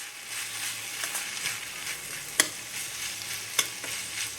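A broad bean stir-fry with toor dal is stirred in a pan, with a quiet, constant sizzle broken by soft spatula scrapes and two sharp metallic clicks.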